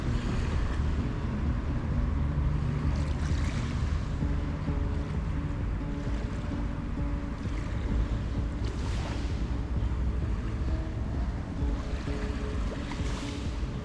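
Ocean waves wash continuously onto a beach in Naha City, Japan, as a steady broadband rush with occasional louder surges, mixed with wind buffeting the microphone; no voices are heard.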